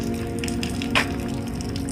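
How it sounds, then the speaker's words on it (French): Steady rain while driving away from the French village of Saint-Front-sur-les-Manses, a constant hiss of water with a low road drone beneath and one brief sharper splash partway through. "on repart sous la pluie"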